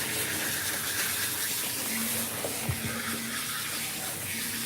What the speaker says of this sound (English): now let's start rinsing off the groomer's goop.